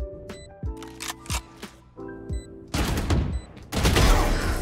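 Gunshots in Valorant, fired by the agent Neon with a shotgun: several sharp, loud reports in separate bursts, the last two heavy and sustained, with no talking.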